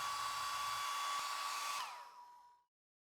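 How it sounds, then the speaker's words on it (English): A hair dryer blows a steady high whine and airy hiss to heat a dbrand Galaxy Buds vinyl skin, then switches off and winds down to silence over the final second. "heat it up, and try again"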